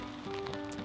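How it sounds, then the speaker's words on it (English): Rain falling outdoors in very windy weather, a steady broadband patter with gusty wind noise, loud and continuous over a short moment with no talking. "It's raining and really windy, super windy."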